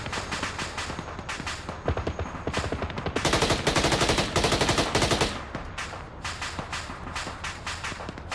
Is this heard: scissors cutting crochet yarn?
no